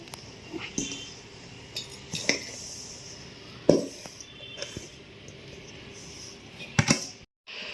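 Sesame seeds being pounded for til laddoo, making a series of irregular, sharp knocks and clinks of a pestle in a vessel, moderately close with quiet pauses between strikes.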